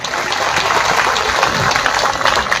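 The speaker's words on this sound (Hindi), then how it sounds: "जोरदार खुद के लिए तालियां।" A large crowd of teachers and employees at an old-pension rally claps together, a dense, steady wash of applause for a couple of seconds.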